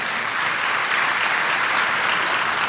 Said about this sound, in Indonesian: tepuk tangan dulu, silakan